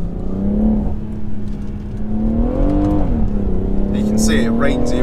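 A BMW M140i in Sports Plus mode accelerates with a steady, loud engine drone that rises and falls in pitch as it pulls through the revs, close up and continuous, with faint clicks near the end.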